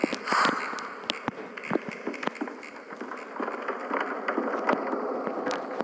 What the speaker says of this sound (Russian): А, это звук от досок, оказывается, был. Так, это они скрипят.